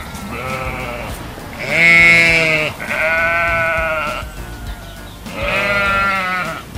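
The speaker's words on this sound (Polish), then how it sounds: "Owca beczy! Be, be!" A sheep bleats three times, loud and close, each call a wavering nasal cry with short pauses in between.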